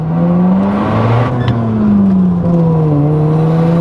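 A Mazda RX-7 FD accelerates hard from inside the cabin, its rotary engine drone climbing steadily in pitch, dipping at a shift, then rising again, loud and continuous with no talk.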